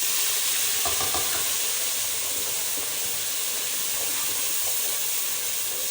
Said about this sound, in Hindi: अब 2 मिनट तक प्याज को भूनते हैं